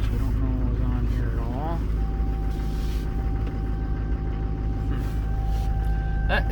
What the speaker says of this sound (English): The triple disc torque converter just pulls this thing right along at a little bit higher idle.